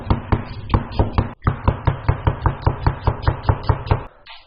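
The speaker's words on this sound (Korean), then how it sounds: "먼저 요것 좀 양파 먼저 좀 썰면서 좀 요렇게 좀 얇게" Rapid, even chopping of a knife thinly slicing onion on a cutting board, about a dozen close, crisp strokes in steady rhythm with a brief pause.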